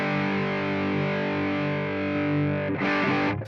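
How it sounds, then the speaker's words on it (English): An electric guitar is played through a Donner Dumbal overdrive pedal, a single loud, warm distorted chord ringing out for about three seconds before a fresh strum crashes in near the end. "This is the Dumbal drive from a Donner, which I think sounds amazing."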